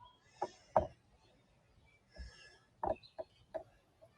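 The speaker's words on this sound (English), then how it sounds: "I guess you have heard some of the birds here" Birds calling outdoors in Hawaii, a few short clucking chirps in scattered bursts, fairly faint against a quiet background with no talking.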